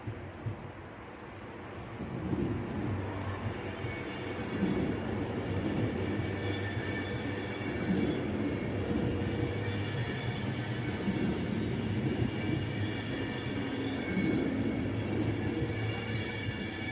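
An Avanti Class 390 Pendolino, unit 390157, rumbles past at Aston on a diversion, a steady rolling roar of wheels and carriages with faint high squeal, moderately close and alone without talk.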